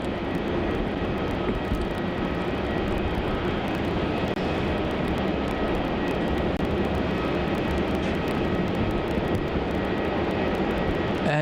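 A Boeing 737-800 departing Melbourne Airport roars with a steady, broad jet engine rush that holds at an even, moderately loud level throughout, heard from a distance with no talk over it.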